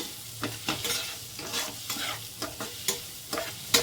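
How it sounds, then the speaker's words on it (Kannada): Chopped jackfruit frying in ghee, stirred in a pan for a jackfruit kadubu, giving a steady close sizzle broken by repeated spoon scrapes and stirring knocks at an uneven rhythm, with no voices. "ಈಗ ತುಪ್ಪಕ್ಕೆ ನಾವು ಹೆಚ್ಚಿಟ್ಕೊಂಡಿರೋ ಹಲಸಿನ ಹಣ್ಣು ಸೇರಿಸ್ಕೊಂಡ್ಬಿಡೋಣ. ಈಗ ಸ್ವಲ್ಪ ಫ್ರೈ ಮಾಡ್ಕೊಳ್ಳೋಣ."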